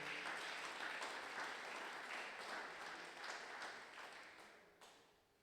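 A church congregation applauds and cheers during a dedication worship service, a dense, steady wash of clapping that holds loud for several seconds and then slowly fades.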